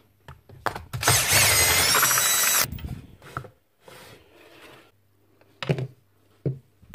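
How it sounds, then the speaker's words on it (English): A big DeWalt breaker hammer roars in a loud burst of under two seconds, then scattered knocks and clatter follow at lower level. "There's yet another big DeWalt breaker."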